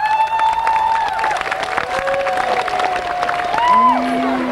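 A crowd applauds and cheers at the opening of the 1993 Wołosate festival, the clapping and cheering holding steady and fairly loud alongside sustained tonal sounds.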